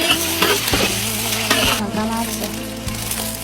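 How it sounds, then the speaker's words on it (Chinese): Minced ginger and garlic stir-fried in a wok outdoors, a close, bright sizzle with scraping strokes of the spatula and a few knocks against the pan, while a voice speaks briefly. "生炒姜末、蒜末"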